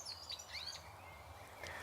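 Robins and a blackbird singing in an English garden in May, quick high chirps and warbled phrases coming and going, soft and somewhat distant over quiet background.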